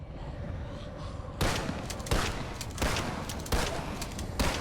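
Pump-action shotgun firing in a video game: four loud, heavy blasts spaced roughly half a second to a second apart, each with a short decay, over a steady game background.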